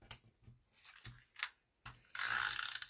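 A snail adhesive tape runner clicks and ratchets several times in quick short strokes while applying adhesive to a small piece of paper, ending in a brief scratchy rasp.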